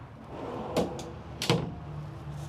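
Drawers in the living quarters of a 2025 Logan Coach Select 812 three-horse trailer with a 12-foot short wall give two sharp, close knocks about a second apart over a quiet room hum.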